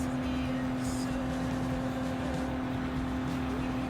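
A Toyota GR Supra engine in the video game Gran Turismo Sport, a steady sustained engine drone holding a high, even pitch throughout.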